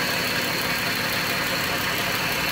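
A 3.6 Pentastar V6 with a ticking noise and heavily sludged oil idles close by, giving an unbroken, even mechanical hum with no talking.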